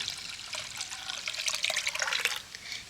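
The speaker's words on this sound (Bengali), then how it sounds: "কড়াইতেই আমি দুধ দিয়ে দিচ্ছি তো এখানে আমি পুরো দু লিটার দুধ নিয়েছি" Two litres of milk pour into a wok in a home kitchen, giving a steady close-up liquid splashing and trickling stream that grows busier toward the end, with no talking.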